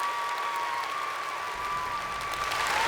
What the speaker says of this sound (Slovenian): dajmo en aplavz za dijake